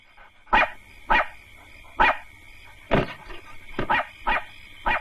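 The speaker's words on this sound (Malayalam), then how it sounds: "വല്ലാതെ കിടന്ന് കുരയ്ക്കുന്നു" A dog barks repeatedly, about eight sharp, loud barks close by in an irregular rhythm with short pauses between them, and no voices.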